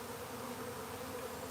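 Dense, steady buzzing of a mass of honeybees scooped up by hand during a swarm catch, a continuous close drone with no gaps and no voices.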